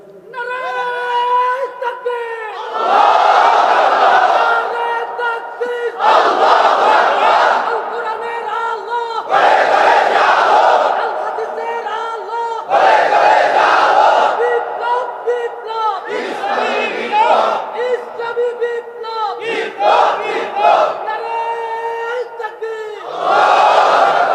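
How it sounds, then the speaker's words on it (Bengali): Crowd at an Islamic gathering chanting slogans in loud call-and-response bursts, a lead voice alternating with massed shouted replies in a regular rhythm. "আমার খুব তরুণ মানুষ খুব সুন্দর স্লোগান দিয়েছে"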